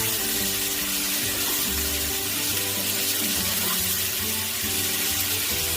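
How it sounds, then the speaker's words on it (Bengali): Onions, green chilies and garlic frying in a pan for a mutton dish, a loud, steady, dense sizzle that hisses continuously from start to end with no pauses. "এখন আমি এটা ভাজতে থাকি"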